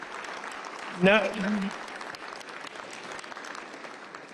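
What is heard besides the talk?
audience applauding the governor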